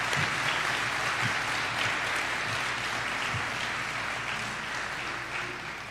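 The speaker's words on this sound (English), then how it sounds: "Let's give them a round of applause." Steady, dense applause from an audience at a school awards night, continuous and fairly distant throughout, slowly tapering near the end.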